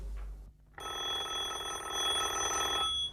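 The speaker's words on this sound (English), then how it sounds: "Answer the phone, Nadine." A telephone bell rings in a continuous bright trill for a few seconds after a short quiet pause, close and clear, with no talking during the ring.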